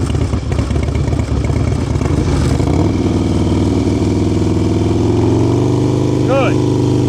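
A motorcycle engine runs steadily and loudly at close range during a riding lesson, a constant drone with a shift in pitch partway through, under an instructor's voice.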